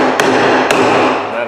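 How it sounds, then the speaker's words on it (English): Two sharp, loud hammer strikes on a wooden block to knock out a wedge while straightening a floor board, spaced about half a second apart over a steady background rumble. "take your hammer, hit on the same side as your wedge on the block"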